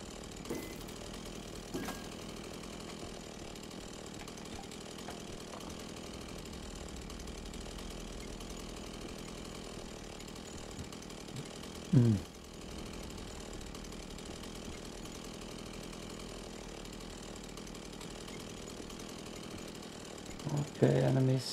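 A chainsaw runs steadily in a horror video game set in Hanwell, a constant mid-pitched engine drone lasting throughout, with a brief louder thump midway and a few knocks near the end.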